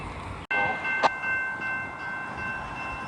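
A Norfolk Southern freight train passes on wet, rusty rails in the rain. A sudden sharp onset gives way to a steady rumble with high metallic squeal tones and a brief burst, loud and close.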